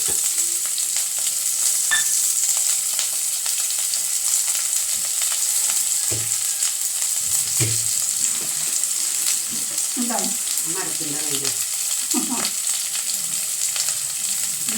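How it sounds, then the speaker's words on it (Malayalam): Garlic, ginger, dried red chili, green chili and onion frying in hot oil, a steady close sizzle throughout with intermittent stirring scrapes and clinks in the second half, no talking. "ഇനി നമുക്ക് വെളുത്തുള്ളി, ഇഞ്ചി, ചുമന്ന ഉണക്കമുളക് പച്ചമുളക്, സവോള ഇത്ര സാധനങ്ങളൊക്കെ മൂപ്പിച്ച് കൊടുക്കാം."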